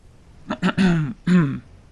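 Someone clears their throat in a few short, voiced rasping bursts, close and fairly loud.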